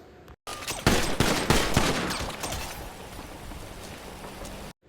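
Rapid burst of gunfire recorded on a police body camera during an officer-involved shooting at a farm, with loud sharp cracks packed together early on, then a sustained noisy wash that fades toward the end.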